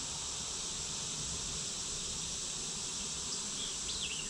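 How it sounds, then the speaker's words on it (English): A steady insect buzz of honey bees swarming close around a camera on a tripod, a continuous dense drone without pauses, loud and near under an overcast sky. "The bees like to attack electronic stuff"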